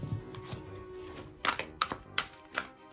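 A Murder of Crows tarot deck is riffle shuffled close up, giving a soft whirring flutter followed by several sharp, crisp card snaps as the deck is bridged and tapped together.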